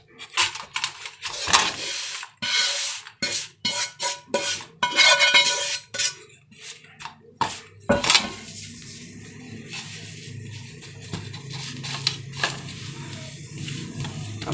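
Semolina halwa being turned out of a pan onto a ghee-greased plate, with clattering metal utensil scrapes and knocks against the pan in quick irregular bursts, then quieter handling.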